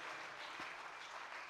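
A short, faint patch of audience applause rises from a crowd at a church gathering, a steady wash of clapping heard from a distance.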